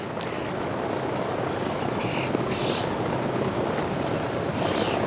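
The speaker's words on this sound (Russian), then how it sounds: "Вертолет по одному залезай!" Helicopter rotor drone, a steady continuous whir and buzz at moderate distance that holds level throughout with no talk.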